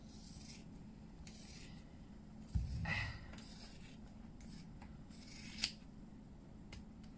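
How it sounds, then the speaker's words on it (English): Scissors snipping around the edge of a squashed yarn pom-pom, soft close rustling cuts in a quiet room with a couple of sharper snips, no talk. "squish it real hard and then trim around the edge"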